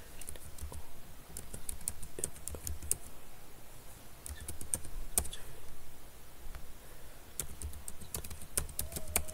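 Rapid, irregular clicking of a laptop keyboard as a password is typed, close and fairly quiet, with bursts of keystrokes and brief pauses and no talking.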